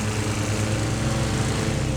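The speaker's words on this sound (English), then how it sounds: "I was actually using the lawnmower to blow the leaves off the yard." A lawn mower engine runs steadily at close range, a loud continuous throbbing drone.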